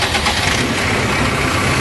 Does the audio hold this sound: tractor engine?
yes